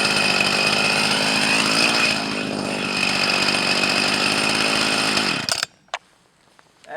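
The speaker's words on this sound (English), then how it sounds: "Then the whole tree job is finished, thanks to this Swedish miracle machine. The Husqvarna 44." A Husqvarna 44 chainsaw runs at full throttle, loud and close, cutting through a tree in a steady buzzing roar for several seconds, then drops abruptly to a quiet idle sputter before revving again.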